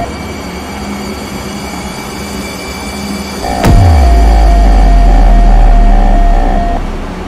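A train thunders past up close: a sudden heavy low rumble swells after a few seconds, joined by a steady high metallic whine, then slowly eases off.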